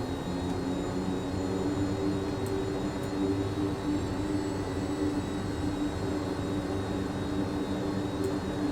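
Aircraft engine running steadily in Microsoft Flight Simulator 2024, a continuous droning hum with a low rumble, loud and unbroken throughout with no talk.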